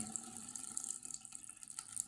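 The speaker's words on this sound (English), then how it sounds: "Next step, open hot water. Let that run to relieve the pressure of the tank." A hot water tap runs to relieve pressure in a water heater tank, giving a steady, faint hiss of flowing water with no voices.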